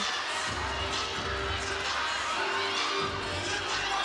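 Teammates at a college gymnastics meet between NC State and Clemson cheer a gymnast from an arena crowd, a continuous roar of shouts and claps with some voices rising above it.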